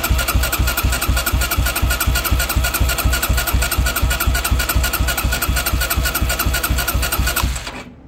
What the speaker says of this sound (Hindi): ठीक ठाक हमने इसको सेल्फ दिए हैं और ये कंटिन्यू सेल्फ ले रहा है